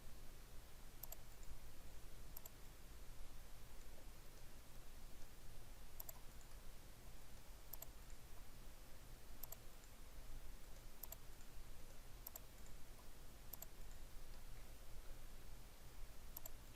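Faint, sharp computer mouse clicks come from jewelry CAD software work on a pear halo ring. They arrive singly at irregular intervals of about one to two seconds over a quiet background hiss.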